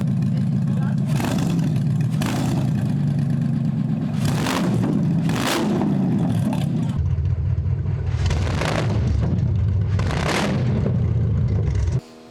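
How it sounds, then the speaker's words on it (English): A loud Coyote V8 engine with open exhaust revs hard in repeated bursts on first start after two years, each surge ending in sharp crackling exhaust pops, close by and continuous throughout. "revving it up, and there's flames coming out"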